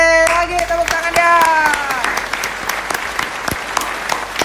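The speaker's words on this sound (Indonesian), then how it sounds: "Lagi tepuk tangannya." Audience applause at a Halloween podcast celebration, loud clapping spread across the clip with sharp individual claps, while a bright sustained tone fades out in the first two seconds.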